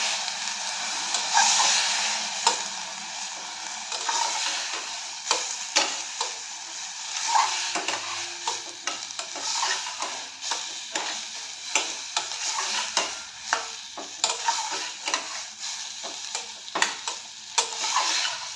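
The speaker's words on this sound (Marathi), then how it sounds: "त्यानंतर मटकी टाकून घ्यायची ती जरा परतून घ्यायची" Moth beans for misal sautéed in a hot pan, a steady close sizzle broken by repeated scraping stirs that come in a loose rhythm, with no talk.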